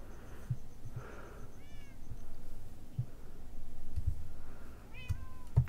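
Cat meowing in the video game Minecraft: a few short, clear high meows repeat at intervals over low background game noise and soft taps.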